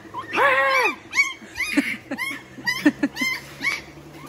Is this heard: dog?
yes